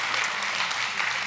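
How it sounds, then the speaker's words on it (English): An audience applauds in a church theater on a Saratoga campus, producing a dense, steady wash of many hands clapping at once. "Yeah, go ahead and clap."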